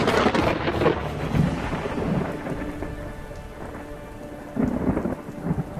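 Heavy rain pours in a thick, steady roar while a deep rumble of thunder rolls beneath it, strongest at the start and swelling again near the end.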